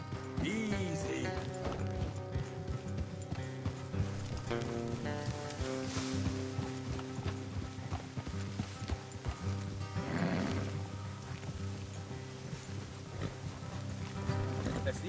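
Horses walking and neighing, with steady clip-clop hooves and a couple of whinnies mixed among music and ambient sound, with speech appearing briefly.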